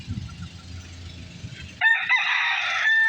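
Low clucking and farmyard shuffling give way to a loud, close gamefowl rooster crow that holds for over a second before trailing off.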